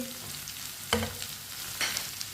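Chopped tomatoes and three finely chopped green chillies frying for masoor dal, a steady close sizzle with two louder bursts of crackle as the pan is stirred.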